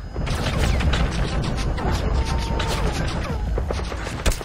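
Rapid gunfire and explosions fill a dense Metal Gear Solid 5 battle, with continuous loud bursts and crashes and no clear gaps.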